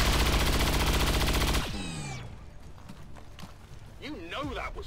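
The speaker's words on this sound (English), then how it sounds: "Take the shot. Since you have armor piercing rounds." Gunfire with armor-piercing rounds in XCOM 2: a loud rapid burst of repeated shots for about a second and a half, followed by a descending whoosh, scattered impact clatter and a brief voice-like cry.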